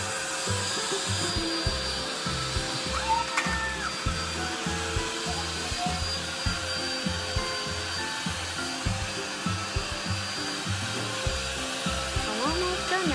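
A vacuum cleaner drones steadily while cleaning up scattered shredded cheese in a home, with rhythmic rubbing and knocking strokes across the floor, close and loud throughout.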